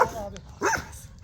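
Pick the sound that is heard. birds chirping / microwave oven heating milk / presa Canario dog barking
presa Canario dog barking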